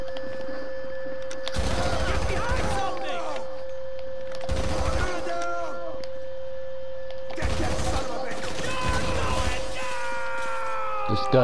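Bursts of gunfire from a weapon in Grand Theft Auto V, three or four loud volleys separated by pauses, set over a steady tonal game hum.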